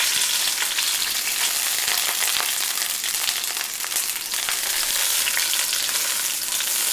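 Onion halves brown in a frying pan, giving a dense, constant hissing sizzle with scattered crackles, close and loud throughout.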